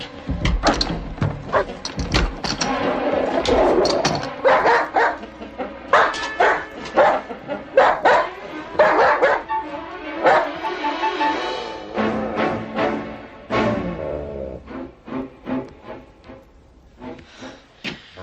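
Dog barking repeatedly in loud, close bursts with yips and whimpers between them, irregular and agitated over a long stretch, with some voices heard underneath.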